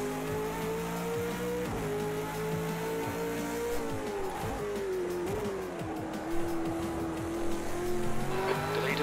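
Race car engine in Project Cars 2, an LMP sim racing game, droning steadily with pitch dropping and gear changes as it brakes for a corner, brief tire scrubbing near the end.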